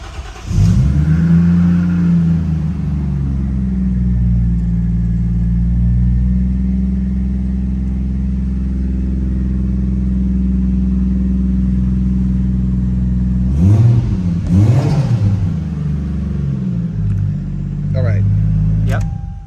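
A 1997 Toyota Chaser Tourer V JZX100 engine turns over and settles into a steady low idle rumble, then briefly revs twice near the end.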